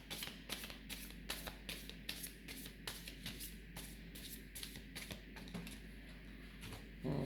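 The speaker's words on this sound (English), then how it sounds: "So first I'm going to clear the cards." Tarot cards are shuffled by hand to clear the deck, making rapid, crisp riffling and slapping bursts that repeat in an uneven rhythm, close but fairly quiet, with no voices over them.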